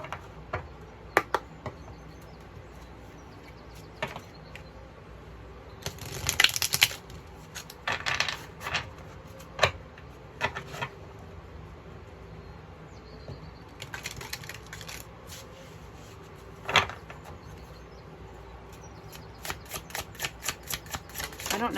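Tarot and oracle cards being shuffled and handled, giving scattered soft riffles, slaps and clicks in irregular bursts, fairly close and quiet, with no talking over them.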